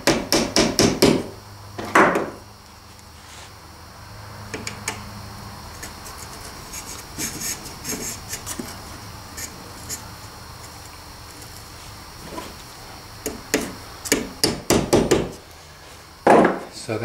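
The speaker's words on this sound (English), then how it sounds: "and then you just use a hammer." A hammer drives wire into a wooden Warren truss model train bridge with close, sharp taps. Rapid bursts of strikes come at the start and again toward the end, separated by quieter rustling and handling.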